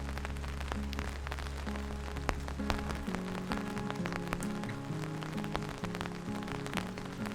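Steady patter of light monsoon rain on hard surfaces on a dam bridge in Munnar, India, with a low hum running underneath for the first few seconds.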